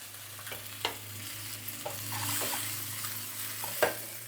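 Eggs frying in a pan for a spicy egg curry, with a steady sizzle underneath and several sharp scrape-and-clack strokes of stirring spaced out across it. No one speaks.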